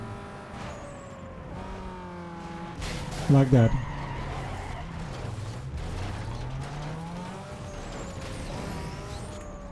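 A race car engine roars and revs during Need for Speed: Underground 2 gameplay, with pitch sweeping up and down through gear changes, a sharp skid burst early on, and a player talking over it.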